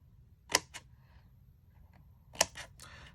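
Scissors snip at an angle through cardstock box flaps, making two crisp, close cuts about two seconds apart with quiet room tone between them.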